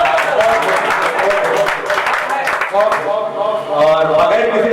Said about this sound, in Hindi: मैं सोच रहा हूँ कि एक बार जोरदार तालियों